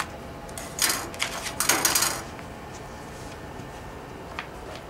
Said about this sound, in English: I'm just going to cut it down to size.